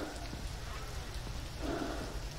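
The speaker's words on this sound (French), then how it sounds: "Et il pleut." Rain falls steadily in a video game set outside an entrance where a car sits running, a soft continuous patter filling the background at moderate level with no voices over it.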